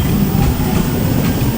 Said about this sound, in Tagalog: So, ayan yung LRT guys.